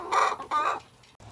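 Turkeys on a summer homestead call loudly in two strong bursts of harsh, raspy calls close to the listener, then fade to a quieter stretch with a short final noise.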